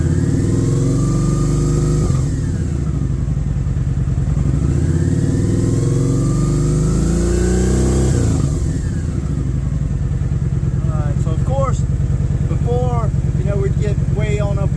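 A car engine held at a steady fast idle near 3,000 rpm after an ECU swap between 2013 and 2012 units, a loud continuous drone with rising and falling whines, and a person talking over it near the end.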